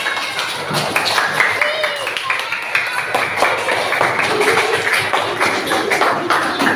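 A classroom group claps for Adi during a coaching and supervision session, with dense, brisk handclaps mixed with voices talking over them throughout.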